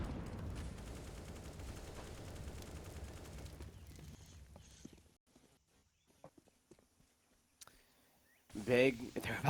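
Pistol fire rattles out in a pro Counter-Strike match on the Ancient map during a pistol round. There are dense rapid shots for about four seconds, then scattered footsteps and clicks, and a caster's voice breaks in at the end.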